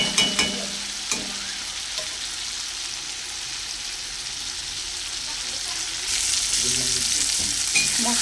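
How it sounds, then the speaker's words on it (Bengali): Masala for a katla fish curry sautéing in oil, a steady frying hiss with occasional scraping stir clicks, growing brighter and louder near the end. "আমার খুব ভালো করে কষানো হয়ে গেছে মশলা থেকে তেল ছেড়ে দিয়েছে"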